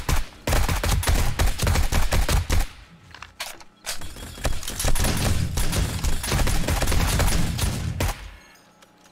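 Automated base turrets in 7 Days To Die blast away during a horde night in rapid, loud bursts of gunfire, with a brief lull partway through before the shooting resumes and then tapers off near the end.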